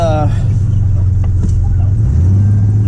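A 1987 S10 pickup truck's engine hums low and steady from inside the cab while driving, with a brief voice at the start and faint rattles.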